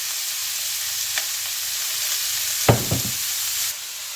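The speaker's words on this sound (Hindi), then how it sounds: "पैन में मैं 1 टीस्पून ऑयल डालूंगी। स्लाइस जो ऑनियन है वो डाल देंगे" Sliced onion and red bell pepper sautéing in about a teaspoon of oil in a pan over medium heat, a steady soft sizzle with a few brief stir clatters partway through, no talking.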